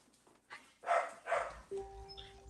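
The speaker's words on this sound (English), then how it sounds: "dogs barking in the background." A couple of short dog barks sound faintly in the background of a quiet indoor room, followed by a steady electronic tone.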